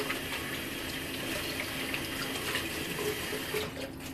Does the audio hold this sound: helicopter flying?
no